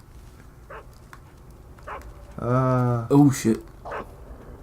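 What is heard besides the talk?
horde of dogs barking in video game Metal Gear Solid 3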